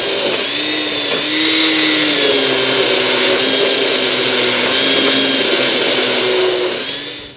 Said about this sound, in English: Let's puree it up.